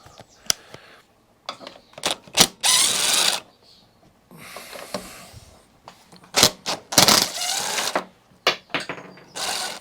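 Quarter-inch impact driver with a 10mm socket backing out the carburetor bolts on a Sovereign SV150 lawnmower, irregular short rattling bursts and pauses close by, alone without talk.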